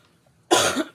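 A single sharp, close cough bursts out of near silence and trails off over less than half a second.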